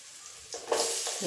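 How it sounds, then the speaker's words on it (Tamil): Chopped onions hit a pan of garlic already fried golden, and a soft hiss suddenly swells into a loud, steady sizzle close by, with a second surge near the end as they are stirred. "பூண்டு நல்லா பொண்ணு நேரமாக செவந்ததுக்கப்புறம் வெங்காயம் கட் பண்ணி வச்சுருக்கோம் இல்லைங்களா அதையும் போட்டுப்போம்"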